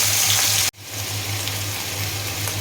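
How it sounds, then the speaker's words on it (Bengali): Cauliflower and potatoes fry in oil with a loud, steady, close sizzle, briefly cut off near the start and then resuming just as strong to the end. "আর এই তেলের মধ্যে এখন আমি ফুলকপি আর আলু ভেজে নিলাম।"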